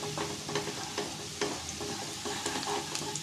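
Chopped onion frying in a pot until light brown for mutton soup, a steady soft sizzle with faint scraping stirs and small crackles throughout, fairly quiet and close, no voices.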